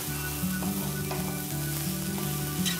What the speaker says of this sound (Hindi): इसे हाई फ्लेम पर ही सॉटे करें।